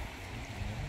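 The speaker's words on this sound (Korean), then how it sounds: "물소리 좋고요." A mountain stream flows steadily beside a backwoods restaurant's yard, giving a continuous soft gurgling rush with no voices.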